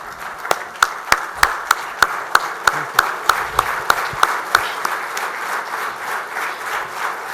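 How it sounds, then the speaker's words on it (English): Conference audience applauding at a national project management event, a steady wash of clapping with a few loud, regular individual claps standing out near the front, continuing for the whole stretch. "Can I request all of you to please stand up and clap?"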